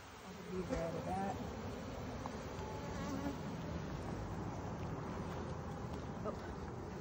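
Honey bees buzz steadily and densely during an April hive inspection, a close, continuous hum that swells slightly at moments, with a faint human voice now and then beneath it.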